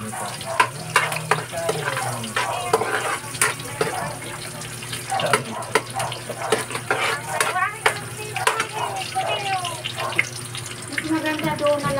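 Garlic and onion sauté together in a pan, giving a steady sizzle under repeated scrapes and clatters of a stirring utensil. Running water and voices can be heard in the background.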